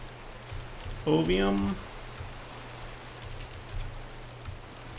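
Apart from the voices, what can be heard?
rain falling in a video game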